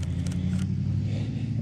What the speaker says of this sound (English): it's the turbo flutter.